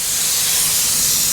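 Air spray gun spraying paint onto a Mustang body panel with air pressure set a little over 20: a loud, steady, close hiss lasting about a second and a half, with no talk.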